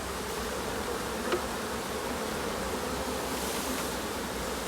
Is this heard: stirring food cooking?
no